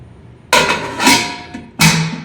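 A few sharp metallic clanks and clatters as a lid is set down and settled onto a pot of cooking drumstick and lentil curry, close by.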